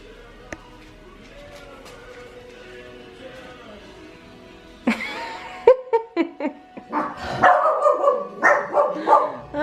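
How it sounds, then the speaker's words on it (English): Several dogs at a pet-sitting house break into loud, close barking and yipping in bursts, following a quieter stretch of music playing in the room. "The kids are dogs."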